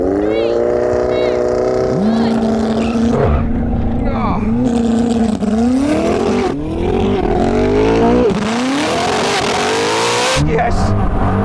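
A Koenigsegg hypercar and a Hayabusa sport bike drag racing, loud engine roar and rising revs as gears shift repeatedly, with tire noise and people talking over it.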